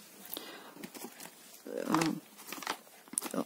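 A small package is handled and crinkled close up, with soft rustles and short crackling bursts, loudest near the middle, among quiet talk.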